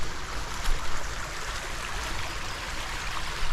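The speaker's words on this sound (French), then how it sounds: "Il y a une petite cascade là." A small waterfall on a shallow stream: a continuous close rush of splashing, churning water, steady and fairly loud for the whole stretch, with no voices.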